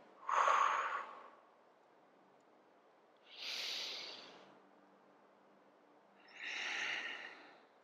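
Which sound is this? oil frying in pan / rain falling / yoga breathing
yoga breathing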